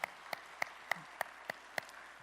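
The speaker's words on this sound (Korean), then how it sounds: "하나님께 감사와 영광의 박수를 올려드리겠습니다." Hands clap in a church service celebrating the congregation's 44th anniversary, seven sharp, evenly spaced claps at a steady rhythm over a quiet room, fairly faint and distinct.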